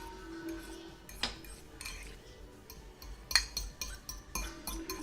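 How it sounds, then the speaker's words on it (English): A utensil mixes pico de gallo in a bowl with quiet, irregular clinks and scrapes, a few louder taps standing out against a low room background. "Okay, we're gonna mix this up."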